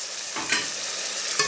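Spice paste for Balochi beef gosht salan sizzles steadily in a pot with tomatoes and stock, with a couple of scraping stirs cutting through the close, continuous frying hiss.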